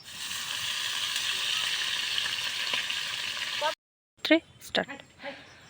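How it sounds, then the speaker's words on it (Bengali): Prawns fry in a pan with a bright, steady sizzling hiss for several seconds before it cuts off, followed by a few short scraping and knocking sounds. "এখন চিংড়ি মাছগুলো ভেজে নিচ্ছি।"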